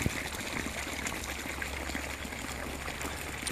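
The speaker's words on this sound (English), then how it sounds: "it's just amazing how the water just free flows." Spring water at Healing Springs in Blackville, South Carolina, flows freely from an outlet, a continuous close trickling and splashing stream with no voices over it.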